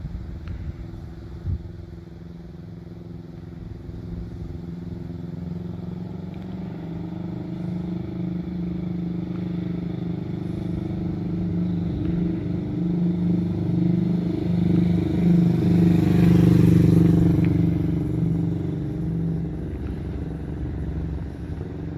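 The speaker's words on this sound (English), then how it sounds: "And now a drive-by with the 550mm 21-inch bullnose Delkevic muffler." A Kawasaki Vulcan S motorcycle fitted with a 21-inch, 550mm Delkevic bullnose muffler rumbles past, its low exhaust drone swelling as it approaches, peaking near the end, then fading slightly.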